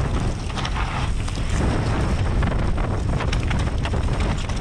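Strong wind buffets the microphone during a mass-start mountain bike race at Antur Stiniog, giving a continuous loud roar with gusty surges that persist through the whole stretch.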